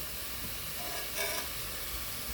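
Potatoes and peas frying in a pan for methi palav, a steady soft sizzle that holds evenly throughout with a slight swell near the middle, close and unaccompanied by talk.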